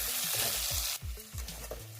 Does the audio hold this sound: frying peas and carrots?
yes